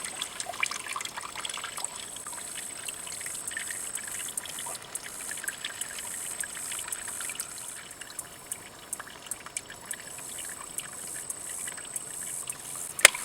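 A water bag filling from a flowing stream outdoors gives a steady, quiet trickle and splash that runs the whole way, with a few sharper drips and clicks near the end.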